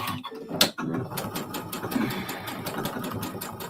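A sewing machine runs steadily through a live evening sewing session, its rapid even stitching continuing at a moderate level for the whole stretch with no talk over it.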